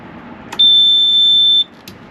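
A boat engine's maintenance alert: a single sustained high-pitched electronic beep lasting about a second, flanked by two short clicks, over a faint low hum.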